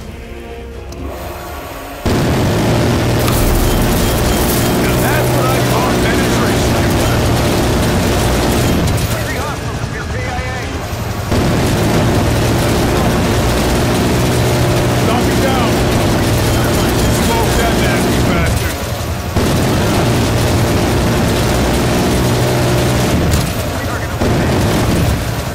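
Heavy booming gunfire and explosions from a chopper gunner helicopter in Call of Duty: Black Ops Cold War, loud and continuous with dense rumbling blasts, a brief lull midway, and game voices over it.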